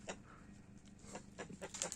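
Backyard chickens clucking softly at a small farm, a few short, faint clucks and bird calls scattered over quiet surroundings.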